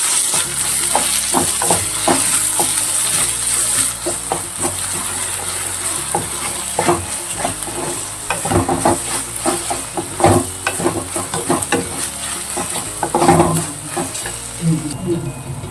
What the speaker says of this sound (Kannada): ಸ್ವಲ್ಪ ಶುಂಠಿ ಬೆಳ್ಳುಳ್ಳಿ ಪೇಸ್ಟ್ ಹಾಕೋತಾ ಇದ್ದೀನಿ. ಅದನ್ನು ಚೆನ್ನಾಗಿ ಫ್ರೈ ಮಾಡ್ತೀನಿ